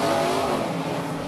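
A dirt track late model race car's V8 engine, rated up to 800 horsepower in a car of about 2,300 pounds, roars in a brief loud burst, its rough rumbling tone steady and close with no voices.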